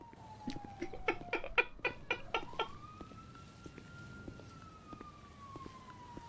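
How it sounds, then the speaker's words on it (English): An emergency vehicle siren wails in the distance, a slow rising and falling tone running throughout, with a rapid series of sharp nearby knocks early on. "those sirens are probably completely unrelated."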